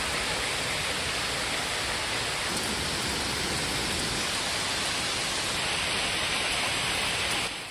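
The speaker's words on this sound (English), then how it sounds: "Okay, it's starting to rain." Steady rain falling outdoors in woodland, a dense, even hiss of drops on the ground and leaves that carries on unbroken, close and fairly loud, with no voices.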